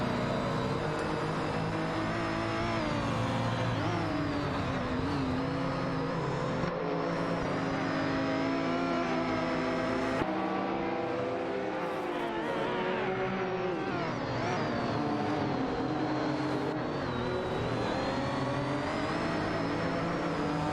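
Race car engines, including a Porsche and a Jaguar XJ220, roar continuously in an AI racing video game, revving and shifting pitch as cars accelerate and jostle for position.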